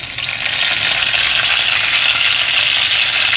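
Curry leaves sizzle in hot oil that already holds mustard seeds, giving a loud, steady, close crackling hiss that runs unbroken with no voices.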